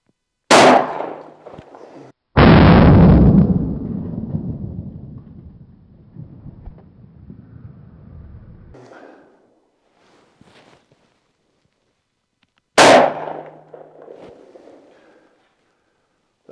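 A shotgun fires 2 3/4 inch, 1-ounce slugs outdoors: three loud, sharp blasts, the second with a long rolling echo and the last well apart from the rest.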